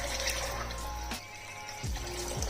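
Water poured into a kadhai holding chickpeas and masoor lentils, a steady splashing pour that breaks off midway, then resumes briefly with short gurgling spurts near the end.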